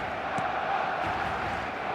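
A roaring stadium crowd at a match in the eFootball video game, a dense, steady wash of cheering and chanting that holds at an even level throughout.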